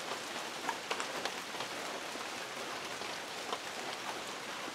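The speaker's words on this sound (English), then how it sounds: "it's raining. It started raining a little while ago." Steady rain falls alone, a dense wash of patter with occasional louder drips landing close by.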